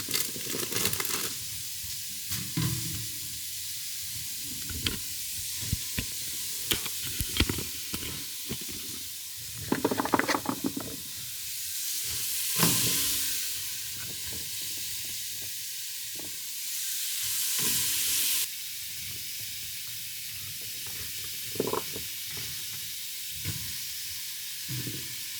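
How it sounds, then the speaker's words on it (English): Leeks and carrots sizzle in a frying pan while being stirred, a quiet steady hiss with intermittent scraping and clattering from the spoon, recorded close in a home kitchen. "And while those leeks are frying, why not add in the carrots?"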